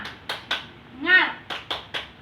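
Children doing a rhythmic spirit clap: sharp group claps in a steady pattern, two beats, a short pause filled by a voice, then three more, close and fairly loud.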